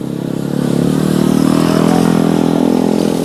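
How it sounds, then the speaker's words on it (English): Street motorcycles without knobby tires ride a dirt track during warm-up at a race event, engines droning and revving steadily and loudly as bikes pass fairly close. "people are riding on the track,"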